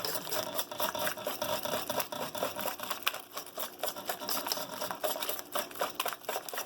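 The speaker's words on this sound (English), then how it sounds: "I want to get the clumps out, which only happens at the beginning, and so I do that with my whisk." A whisk working through thick honey cake batter to break up clumps: a continuous, busy scraping and rattling against the bowl, close and moderately quiet.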